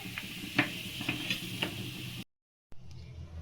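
Cumin seeds and crushed red chili crackle in hot oil with a dense, steady sizzle broken by sharp popping ticks, then a short drop to silence before quieter sizzling resumes.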